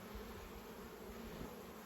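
Honey bees swarm around a hive frame being shaken out, producing a dense, steady buzzing drone that stays close and continuous with no speech over it.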